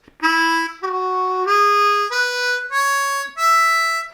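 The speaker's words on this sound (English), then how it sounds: "the major pentatonic scale is quite melodic and upbeat" Six sustained, reedy harmonica notes climb step by step up a bright major pentatonic scale, played solo and clearly with short breaks between them.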